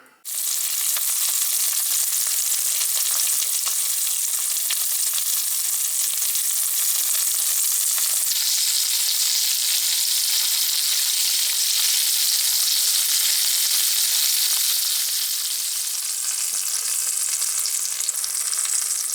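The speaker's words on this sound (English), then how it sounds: "so I used them to make sausage patties for in the pan" Sausage patties of Thüringer bratwurst-style meat sizzle steadily in a pan, a loud continuous crackling hiss that swells early and holds for the whole stretch.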